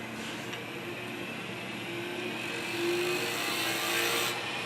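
A lathe spins a cholla cactus and resin pen blank at 3,900 RPM, giving a steady, even whirring hum with faint hiss that holds for several seconds without talk.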